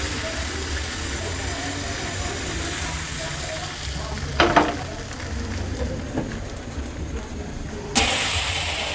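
Patishapta pitha batter frying on an oiled hot tawa gives a soft, steady sizzle close by, broken by a couple of brief scraping knocks and a louder burst of hiss near the end.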